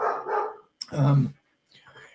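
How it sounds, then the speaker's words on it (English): A pet dog barking outdoors, two or three short barks heard at a moderate distance, with a person talking nearby. "Sorry, my dog's out there protecting the world."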